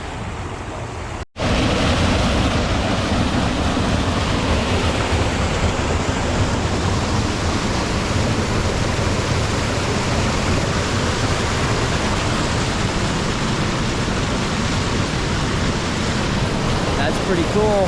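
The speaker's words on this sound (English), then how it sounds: "this little waterway right here is usually just a little tiny creek, and right now it's like looks like a true little waterfall" Swollen wilderness creek in Alaska near an isolated mining camp, running high and spilling like a small waterfall; steady, dense rushing water roars close and continuous after a brief cut at the start.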